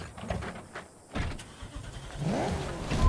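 Car engine in the video game Cyberpunk 2077, a low rumble that swells as the vehicle gets going, with a rising whine and road noise building toward the end, close and without speech.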